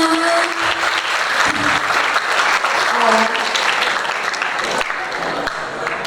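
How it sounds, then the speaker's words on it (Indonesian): Applause from an audience at an alumni sharing event, a dense, steady wash of many hands clapping throughout, fairly loud and close, with faint voices mixed in. "Tepuk tangannya mana?"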